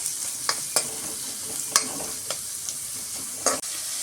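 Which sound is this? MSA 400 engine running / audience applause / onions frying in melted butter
onions frying in melted butter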